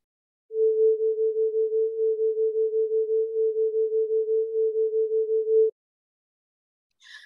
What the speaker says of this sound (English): It's a single pitch. It persists throughout the plot.